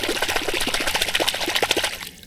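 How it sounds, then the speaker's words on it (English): Water splashes and trickles close by as a brass find is rinsed in a cold beaver pond, a brief busy stretch of sloshing that stops abruptly. "Let me wash that off in the beaver pond."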